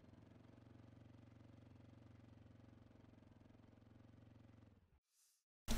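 Steady idling motorbike engine in a military video game, a low droning rumble holding for about five seconds before cutting off abruptly into silence.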